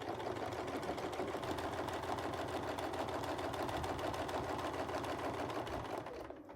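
A domestic sewing machine runs steadily, stitching with a Westalee ruler. The needle keeps a fast, even mechanical chatter throughout, close and fairly loud, then slows and quiets in the final half second.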